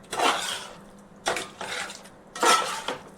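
A spoon stirs chicken gongura curry in a pot over high heat on the stove, making three short bursts of scraping and clattering against the metal with brief quiet gaps between them.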